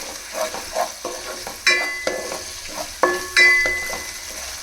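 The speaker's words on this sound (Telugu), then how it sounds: "చూడండి ఫ్రెండ్స్, కరేపాకు కూడా వేసుకుంటున్నాను." Fresh curry leaves dropped into hot oil for a fish curry sizzle sharply in repeated bursts, with a spoon stirring and scraping the pan between them. Close and alone, with no talking.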